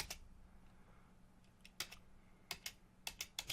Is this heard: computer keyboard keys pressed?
yes